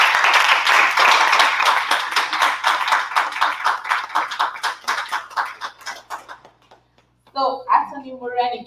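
An audience at a business event gives a round of applause for an attorney being introduced, steady clapping that thins and fades out before a speaker's voice returns.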